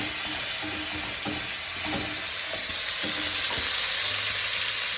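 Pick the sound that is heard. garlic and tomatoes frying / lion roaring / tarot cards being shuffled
garlic and tomatoes frying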